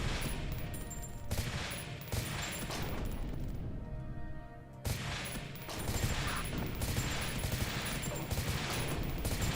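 A weapon fires in burst mode in Beyond Citadel, with repeated clusters of sharp gunshots in quick succession and one short lull before the bursts resume.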